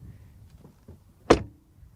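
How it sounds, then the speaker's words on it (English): A Mercedes A-Class facelift car door swinging shut with one solid, resounding thud, close and prominent after a quiet lead-in, with no one talking. "the door shut sound is just as solid and resounding"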